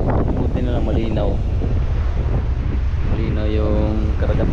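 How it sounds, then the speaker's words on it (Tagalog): Constant engine rumble and wind buffeting the microphone aboard a large ship at sea departing Tagbilaran toward Cebu, with voices faintly mixed into the steady roar. "Nakaalis na yung barko sa Tagbilaran guys."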